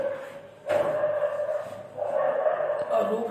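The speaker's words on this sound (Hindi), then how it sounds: "कुत्तों की आवाज बड़ा परेशान कर देती है" Dogs bark in the distance outside, a couple of sharp yips followed by ongoing barking and whimpering, heard faintly beneath someone speaking indoors.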